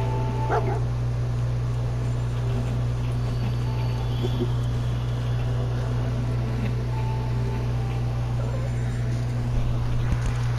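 The dog companion in the Fallout 4 video game barks a few times while following a scent, over a constant low hum of game ambience.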